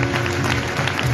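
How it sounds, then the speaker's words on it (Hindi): A church congregation at a live service in Toba Tek Singh claps hands together in a steady, dense patter, with the sound carrying through a reverberant hall over a faint sustained tone. "ताली बजाएंगे सब, आंखें बंद करके"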